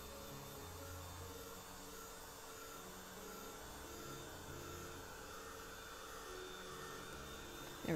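A hair dryer blowing on a watercolor painting gives a steady, even whooshing drone throughout, close but fairly faint, with no talking.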